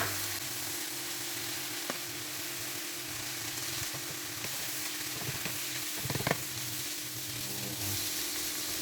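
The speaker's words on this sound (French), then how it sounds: "Donc là, je rajoute la choucroute crue. Ça, tout va cuire ensemble." Lardons and raw sauerkraut frying together in a pan, a steady close sizzle with occasional stirring scrapes and small clinks, no voices.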